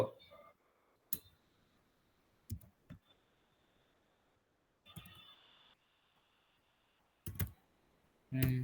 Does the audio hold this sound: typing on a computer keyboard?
yes